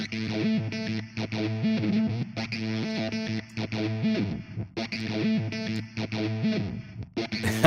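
A synthesizer runs through a distortion effect with its depth turned down, giving a dark, thick sustained tone that repeats a chord pattern with rhythmic swells at a steady, fairly loud level.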